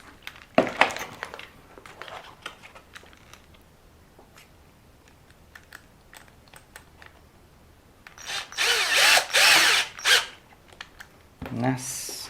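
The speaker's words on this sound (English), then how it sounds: "I am again going to use my electric screwdriver because it goes a little bit quicker." An electric screwdriver drives bolts into an LC Racing L6039 RC car bumper, with a short whir early on and longer loud whirring bursts near the end, amid small clicks and handling noises.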